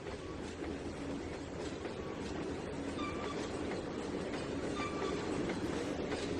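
A Burlington Northern train with boxcars running in the Trainz 2019 simulator, a steady rumbling roll with faint clickety-clack and scattered squeals, continuous and moderately loud with no talking.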